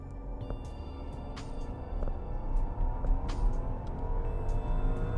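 A 2018 Rolls-Royce Phantom launches with traction control off. The engine note climbs smoothly and steadily, heard quietly and muffled as if from inside the cabin.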